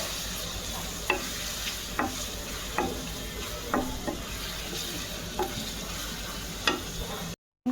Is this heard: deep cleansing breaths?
no